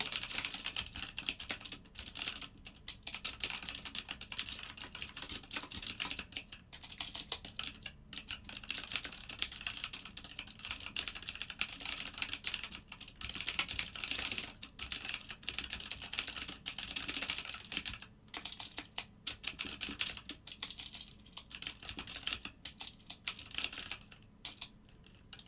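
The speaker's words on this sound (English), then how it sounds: "Yeah, I type fast, but it's kind of annoying because this keyboard is so clicking." Fast typing on a clicky computer keyboard, a dense continuous stream of sharp keystrokes with brief pauses, close-up and steady throughout.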